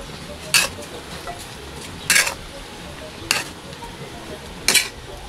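Chicken feet being stirred in a cooking pan, giving four separate scraping, sizzling strokes spaced a second or so apart over a low background hiss, close and fairly quiet.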